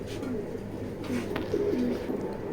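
Racing pigeons in a loft give soft, low repeated coos over a close background murmur of shuffling and faint chatter.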